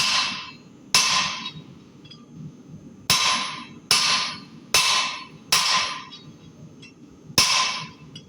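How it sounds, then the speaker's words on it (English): A hammer forges the shoulder of a knife blade with seven or so sharp, ringing blows at an irregular pace, each bright strike fading quickly over a low background hum, with no voices. "So now I'm just going to start forging in the shoulder on this guy."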